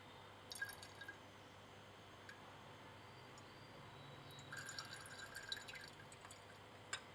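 Sulfuric acid, 10 ml at 50% by volume, is added to a lab flask fitted with a reflux condenser. Faint drips and trickles come in two short spells over a quiet background.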